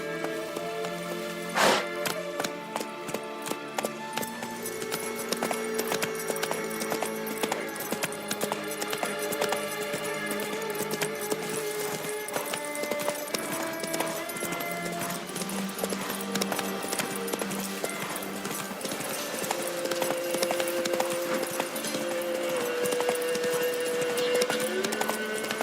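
Galloping horse hooves from The Witcher 3: Wild Hunt, a steady clip-clop running beneath a continuous bed of game music for the whole stretch.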